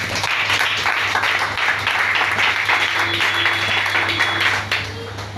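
A church congregation claps and applauds together during a French-language service, a dense steady wash of hand claps lasting several seconds under a low continuous hum, with no talk over it.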